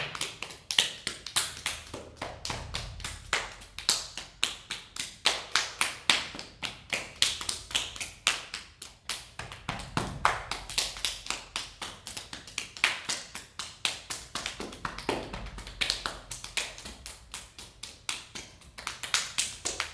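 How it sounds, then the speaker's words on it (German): Hands slap and tap on the body during a workout cool-down, a long run of quick, crisp pats in uneven bursts, close and fairly loud, with no talking over them. "tun wir einfach mal zuerst ein bisschen klopfen"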